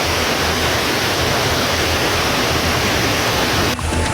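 Floodwater rushes from the breached Tuntang River levee in Grobogan, a loud, dense, unbroken roar of torrential water filling the whole clip, close and overwhelming, with no voices.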